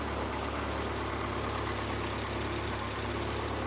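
A built Toyota 4A-GE engine, already warmed up, idles steadily and close up with a continuous low mechanical drone and even vibration, no voices over it.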